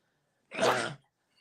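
A single short sneeze bursts out close and clear, about half a second long, surrounded by near silence.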